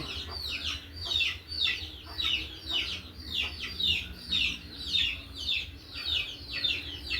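Native-breed hens and chicks clucking and peeping in a repeated rhythmic pattern, close by and moderately loud, over a low background hum.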